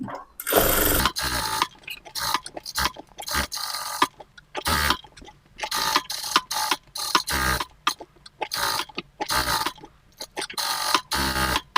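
A sewing machine stitches a blouse lining in short bursts, each run of rapid mechanical whirring stopping and restarting repeatedly, close and loud, with brief pauses between runs.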